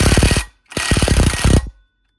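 An impact wrench hammers crank bolts tight on a Predator 212 go-kart engine, in two close, loud rattling bursts with a short gap between them.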